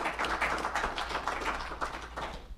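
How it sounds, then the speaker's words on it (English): An audience at an agricultural expo soil-health panel applauds the panelists, producing a continuous patter of many hands clapping at a moderate level with no speech. "Let's give our panelists a big round of applause."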